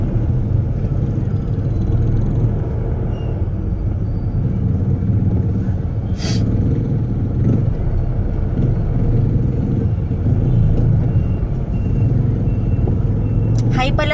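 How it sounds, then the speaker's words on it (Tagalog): Busy road traffic near a market gives off a continuous low rumble of cars and trucks idling and creeping forward, with occasional beeps and brake hisses, while a voice talks over the noise. "Traffic lang dito sa may palengke malapit sa kanila."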